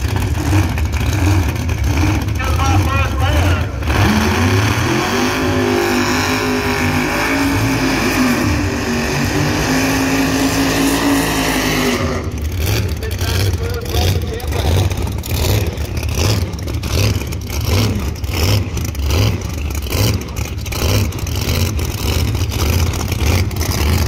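A nitrous Corvette outlaw pro-mod drag car roars at Edgewater, loud and sustained, with engine pitch sweeping up through hard acceleration, then a dense rattling, popping engine tone continuing over the remaining seconds, with no talking.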